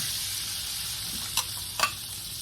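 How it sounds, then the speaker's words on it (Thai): Garlic, coriander root and pepper paste stir-fry in hot oil, giving a quiet, steady sizzle with a couple of brief scraping stirs near the end. "ให้เราผัดสามเกลือให้หอมดีก่อนค่ะ"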